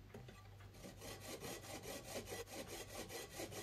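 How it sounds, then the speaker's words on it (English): A hand file smooths the trimmed edge of an aluminium strip clamped in a vise, producing steady, rhythmic rasping strokes at about three per second. The strokes are close and moderately loud, with no one speaking. "I'll put it in my vise to clean up the edge with my file."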